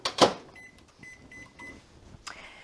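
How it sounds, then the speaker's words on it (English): A microwave oven softening cream cheese is closed with a thump, followed by a series of short electronic keypad beeps and a final clunk as it starts, close and moderately quiet. "I'm just going to pop this in the microwave,"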